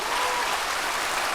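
A church congregation applauding during a service, a thick, continuous wash of clapping from a large crowd, loud and even across the whole moment.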